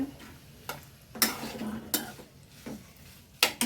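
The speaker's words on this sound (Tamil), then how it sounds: "எல்லாமே சேர்ந்து நல்லா வதங்கட்டும்" Vegetables being sautéed in a pan while dal rice and okra stir-fry are prepared, with a soft background sizzle broken by a handful of sharp scraping and clinking spatula strokes against the pan.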